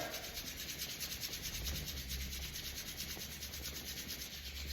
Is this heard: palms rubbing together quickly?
yes